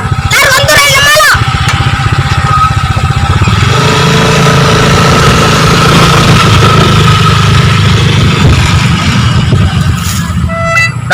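A motorcycle engine idles loudly and close, a steady low rumble lasting throughout, with people's voices talking over it near the start.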